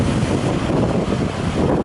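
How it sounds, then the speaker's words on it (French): Strong wind buffeting a phone microphone on a mountain summit, a steady loud roaring rumble that fills the whole stretch with no voices. "Pas mal de vent là. Ça souffle bien. Vous devez l'entendre avec le petit micro de mon téléphone."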